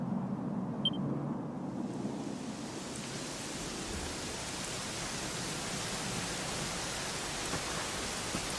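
Steady rain from Dragon Quest XI: Echoes of an Elusive Age, a continuous even hiss that starts over a low rumble. It holds at a constant moderate level, with no voices.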